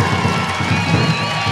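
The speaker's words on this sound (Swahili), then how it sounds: "Hebu pigeni makofi mengi sana." A large crowd applauds and cheers at a political rally in Dar es Salaam, a loud, dense wall of clapping and shouting that holds steady throughout the short stretch.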